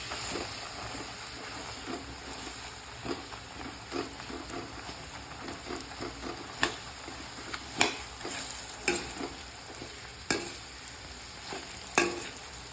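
Flour stirred together with roasted chana dal in a hot pan for puli upma gives soft, regular scraping strokes over a faint, constant sizzle, fairly quiet and with no talking.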